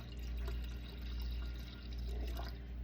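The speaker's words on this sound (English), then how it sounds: "I'm going to pour some of this tea in here too." Kombucha tea pours steadily into a jar, a soft continuous liquid stream with faint splashing, near and unaccompanied by talk.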